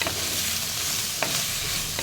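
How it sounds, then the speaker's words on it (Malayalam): Chopped tomatoes sautéing in a pan for a drumstick and potato curry, with a steady soft sizzle and a couple of brief stirring scrapes, close up and with no talk. "കുറച്ച് ടൊമാറ്റോ കട്ട് ചെയ്തത് ഇടാം. എന്നിട്ട് അത് നല്ലപോലെ വഴറ്റിയെടുക്കണം."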